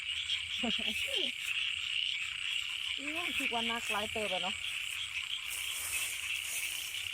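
Large frogs croak in short rippling bursts at night after heavy rain, two clusters of calls standing out over a steady high insect drone, with faint talk in the background.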